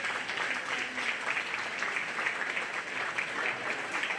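Audience applause at a 4-H/FFA swine show, a steady, even wash of many hands clapping throughout, moderately distant and fairly quiet with no clear talk over it.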